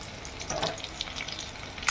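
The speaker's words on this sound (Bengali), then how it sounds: "বন্ধুরা পটল ভাজা আমার হয়ে গেছে" Pointed gourd slices frying in a pan give a steady, close crackling sizzle with small spits and pops throughout, swelling to a brighter burst near the end; no voices are heard.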